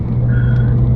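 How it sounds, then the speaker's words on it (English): A car engine idles with a steady low rumble, close and continuous for about a second with no one talking over it, in a street racing setting. "I hear a car."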